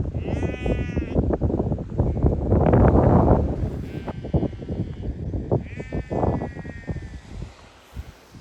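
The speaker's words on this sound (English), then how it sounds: "I don't know what's going on here because I don't speak sheep" Sheep bleat loudly and close by, several wavering calls overlapping and answering one another over a rough outdoor background.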